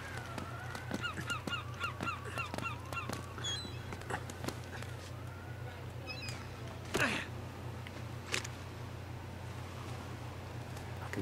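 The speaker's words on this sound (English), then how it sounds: "Fucking seagulls." Seagulls call repeatedly in the Uncharted: Drake's Fortune video game, a series of squawking cries over a steady low hum, with a couple of sharp thuds later on.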